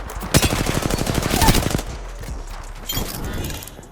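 Gunfire in the battle-royale video game Apex Legends: a loud, rapid automatic burst with sharp repeated shots, then a quieter tail and another short flurry of fire.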